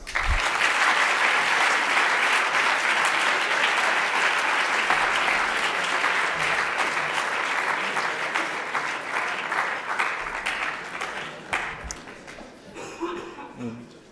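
An audience at the Eloquencia 2012 eloquence final gives dense applause to welcome a lawyer finalist, steady at first and then thinning out, with a few scattered claps and a little chuckling near the end.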